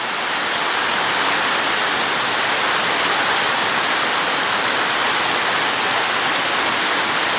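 Heavy rain falls steadily, a loud, dense, continuous hiss of water close by, unbroken throughout with no voices.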